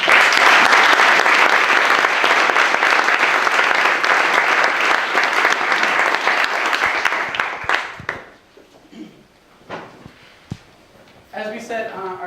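Audience applause fills a hall at a fraternity campus event, loud and dense for about eight seconds before thinning into scattered claps and fading, with a voice rising briefly at the end.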